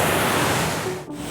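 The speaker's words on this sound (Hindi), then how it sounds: "ये मेरा वाटरफॉल।" Waterfall about 35 km from Indore, a steady broadband roar of falling water close to the microphone, continuous throughout with a brief dip near the end.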